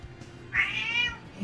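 Percy, a house cat, gives a single clear meow close by, rising and then falling in pitch and lasting under a second, with no talk over it.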